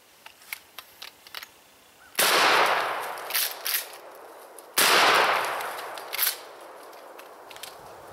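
Two loud, sharp gunshots fired at a hard drive, each a sudden blast followed by a ringing decay, spaced a couple of seconds apart, with faint clicks and small handling noises before and between them.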